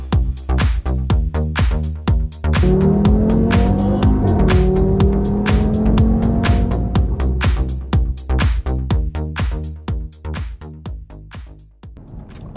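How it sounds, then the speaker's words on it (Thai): An Audi TT RS coupe, a 400-horsepower car, driving with a low steady engine hum and road and tyre noise filling the cabin, loud and continuous, easing off slightly toward the end. "เสียงของเครื่องยนต์เบามากเก็บเสียงดีเสียงถนนเนี่ยได้ยินมากกว่"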